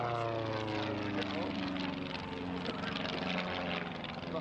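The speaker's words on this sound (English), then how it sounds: "When you see the Cosmic Wind going through its paces in front of us, just bear in mind that its Continental O200 engine gives it just 100 horsepower" A Cosmic Wind aerobatic plane with a 100-horsepower Continental O200 engine drones past at an airshow, its propeller buzz steady and moderately distant, with a commentator talking over it.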